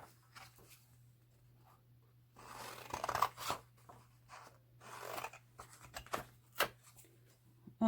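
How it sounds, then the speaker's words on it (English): Scissors snipping through paper pages of a Talisman board game booklet at a desk, a few scattered crunchy cuts and rustles, close and fairly quiet over a steady low hum. "You see what I did? I cut through the second page."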